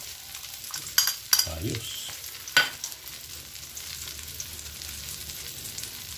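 Ground pork dropping into a hot pan for torta, with a few loud clanks and scrapes as it is stirred, then settling into a soft steady sizzle; a brief word is spoken.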